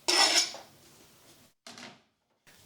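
Small metal pot clanking on a stovetop, with a loud rattling burst at first, then quieter scrapes and clinks in short, separate knocks.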